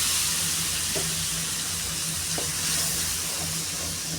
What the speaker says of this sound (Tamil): இப்போ லாஸ்ட்டாக லெமன் ஜூஸ் ஊற்றிக்கலாம்